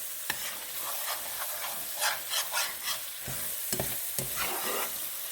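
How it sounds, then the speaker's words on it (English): Flour roux for shepherd's pie stirred and toasted in a pan, a steady soft sizzle under repeated scraping strokes of the spoon, close and moderately loud. "I'm going to make a roux."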